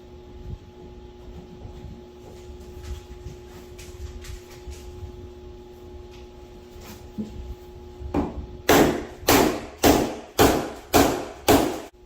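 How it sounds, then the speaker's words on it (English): A hammer strikes wood during bathroom wall work in a workshop setting: five or six sharp, loud blows in a steady rhythm near the end, after a stretch of quiet background hum and faint knocks. "It's just a hammer. It's just a hammer."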